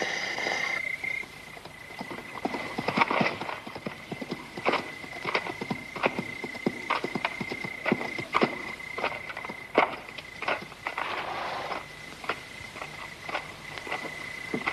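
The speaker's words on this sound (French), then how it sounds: "Voilà un groupe d'hommes à cheval." Horses' hooves clip-clop steadily over a long stretch, a brisk irregular clatter of several animals, with faint insects chirping in the background.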